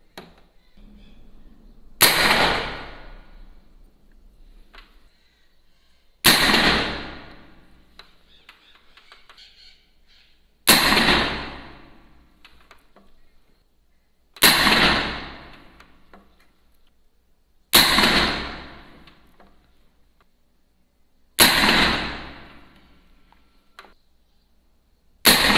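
Six sharp shots from a 9mm PCP air rifle spaced a few seconds apart, each a crisp crack with a short decaying tail, nothing but quiet between them.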